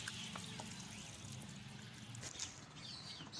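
Water pours into a potted olive plant, a steady soft trickle running through the whole stretch with no talking over it.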